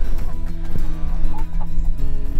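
Chickens cluck and murmur close by in a homestead chicken tractor, several birds calling irregularly over a continuous background, with no talk.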